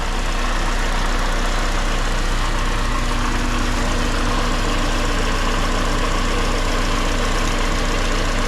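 Honda K-swapped EM2 Civic engine idling steadily at close range, a constant mechanical drone with a low knocking rumble and vibration, alone with no talk throughout.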